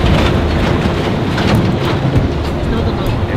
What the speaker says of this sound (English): It started pouring on this road.